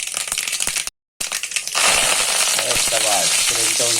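Curry leaves dropped into hot ghee with mustard seeds for a rasam tempering, first scattered crackles and pops, then a brief gap, then a sudden loud, dense sizzle that keeps hissing steadily up close.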